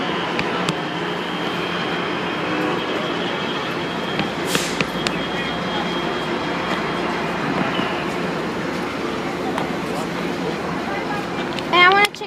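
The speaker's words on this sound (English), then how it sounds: "a Genesis engine is in the lead" A diesel train led by a Genesis locomotive rumbles past steadily at close range, a continuous broad roar with a brief horn-like tone near the end, voices faintly mixed in, at a railroad days event in Fullerton.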